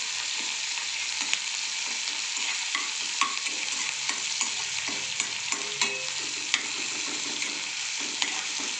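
Garlic and chili paste being stirred in a hot pan, a constant bright sizzle with rhythmic scraping and occasional sharp ticks of the spoon against the metal, no voices.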